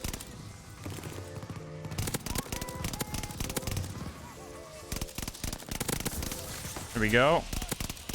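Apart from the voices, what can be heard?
AS44 gunfire in video game Call of Duty Vanguard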